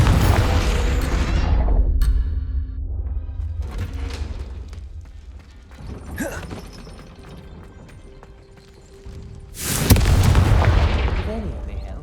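Confringo fire-blast spells bursting in Hogwarts Legacy combat: a heavy explosive boom that decays over two seconds, then quieter thuds and clatter, and a second loud blast near the end.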